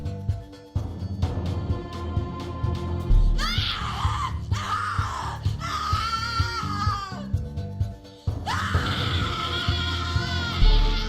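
Screaming in the horror game The Cat Lady: repeated loud, anguished wails and shrieks in several long bursts over a low droning music bed.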